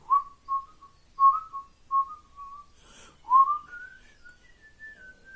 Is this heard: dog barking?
no